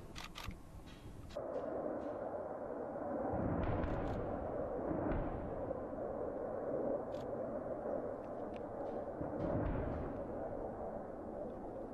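An artillery salute salvo fires during Russian military drills, heard as a few deep booms rolling over a steady outdoor rumble, distant and moderately loud, with no clear talking.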